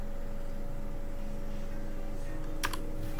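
Quick clattering keystrokes on a computer keyboard over a steady background hum, ending in a short burst of louder taps.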